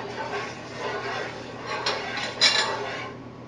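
A dish with freshly squeezed lemon juice is stirred, with a spoon clinking and scraping against the pot in a few soft, close strokes over a quiet kitchen background.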